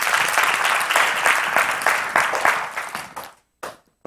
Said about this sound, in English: y'all give you a hand clap